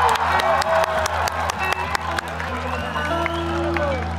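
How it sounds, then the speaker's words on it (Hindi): At a youth festival concert, scattered audience claps greet the band's bass player during a soundcheck. Sparse, uneven hand claps ring out over a steady electrical hum and tonal stage sound. "दीपक बोरा के लिए थोड़ा तालियां।"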